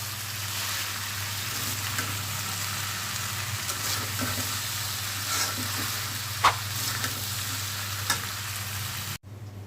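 Bitter melon bhaji fries in a pan with a steady, close sizzle, broken by a few sharp clinks from occasional stirring near the middle and later, then cuts off abruptly at the end.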